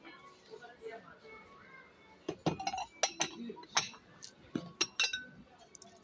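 A rectangular glass butter dish clinks as it is handled in a homeware store, with a series of sharp glassy taps and knocks close by, while someone speaks over and around them.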